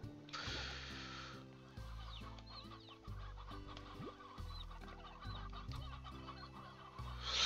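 Chickens cluck repeatedly in the video game Slime Rancher, a series of short rhythmic clucks at moderate volume over a quiet background of game ambience.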